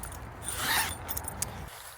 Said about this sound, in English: You can also zip this from the inside